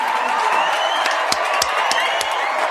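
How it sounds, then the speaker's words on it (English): Live audience at a go-go culture talk show clapping and cheering: steady crowd noise with a few sharp, distinct claps and whoops rising above it, fairly close and continuous. "Clap it up for principles and integrity"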